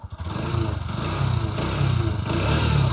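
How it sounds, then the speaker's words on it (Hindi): A Bajaj Pulsar NS 125 motorcycle engine idles up close, its exhaust note a steady, loud throb with a rhythmic low pulse throughout. "आइडियल कंडीशन पर इंजन साउंड सुनो, एग्जॉस्ट नोट सुनो।"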